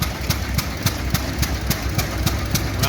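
An antique steel-wheeled tractor engine running loud and close at a Red Power Round Up show in Spencer, Iowa, its steady, evenly spaced putting beats thudding over a continuous low rumble.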